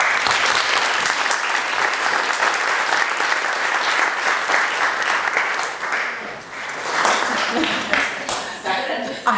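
Conference audience clapping in sustained, dense applause that fills the room loudly throughout, easing slightly near the end.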